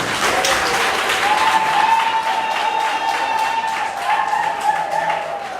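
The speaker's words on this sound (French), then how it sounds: "On peut applaudir pour elle, s'il vous plaît." Applause for the bride at a civil wedding ceremony in a Congolese setting, steady dense clapping from the gathered guests throughout, with a sustained tonal sound running underneath.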